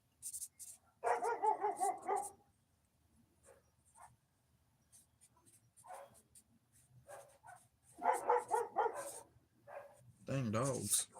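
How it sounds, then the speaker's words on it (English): Several dogs bark in bursts, a loud cluster of barks near the start, another around the middle and a final harsher volley at the end, heard from nearby with quieter stretches and some talking between. "Dang dogs. They're angry."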